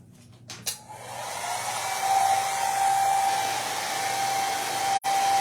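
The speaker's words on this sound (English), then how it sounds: "Let me touch that with the dryer really quick." A hair dryer blows steadily at close range, drying paint on a handmade vintage-style Christmas tree craft; a click starts it, a continuous whooshing hum with a faint whine follows, briefly cutting out near the end before resuming.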